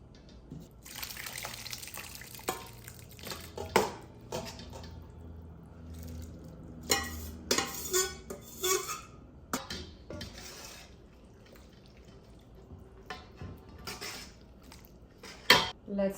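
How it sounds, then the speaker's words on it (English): Ground beef and beans are stirred and mixed together for freezer-meal chili, giving repeated wet, squelchy scrapes and clinks of utensils against a pot or bowl, close and moderately loud, with no talking. "Mix the beans."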